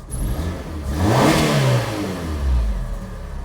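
A Ford Ka engine revs up in two quick swells from idle, rising and falling with a rough, mid-pitched roar close by and no voices.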